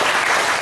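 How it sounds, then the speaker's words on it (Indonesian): An indoor audience at a Buddhist Guru Puja meditation talk breaks into dense, steady applause that stays loud and even throughout, with no speech over it. "Tepuk tangan dulu"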